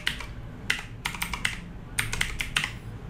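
Typing on a computer keyboard, several quick bursts of crisp key clicks separated by short pauses, close and clear with no talk.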